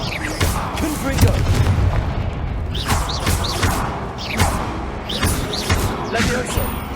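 Spell-casting blasts and booms in the Hogwarts Legacy video game, several loud impacts and whooshes set in dense combat sound, with a voice calling out spells over them.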